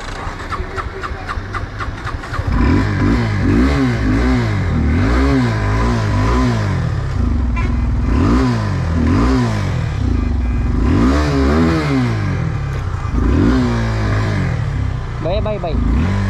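A motorcycle on a Mumbai to Goa ride starts up and revs, its engine pitch rising and falling repeatedly with a steady rumble under someone talking.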